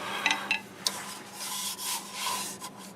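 Sandpaper rubbing against a purple heart wood turning to take off a small nub, giving a soft, close scratching rasp with a few sharper scrapes at the start and no voices.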